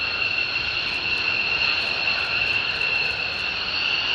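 A military jet from Seymour Johnson flies close by, alongside F-35s, with a loud, steady roaring engine and a high whine held throughout, no voices over it.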